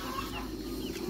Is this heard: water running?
no